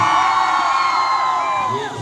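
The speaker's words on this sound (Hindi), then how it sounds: "आपकी भरपूर तालियां।" A school crowd cheers and whoops loudly at a Punjab College cultural festival ribbon-cutting ceremony, a sustained wall of shouting voices, many of them children, with no clear clapping.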